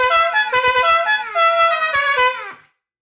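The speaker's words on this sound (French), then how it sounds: "Et nous voilà donc avec notre magnifique visseuse klaxon terminée." A cordless screwdriver rebuilt as a portable horn blares loud, buzzy honks that shift pitch in a few bursts before cutting off abruptly, with no talking.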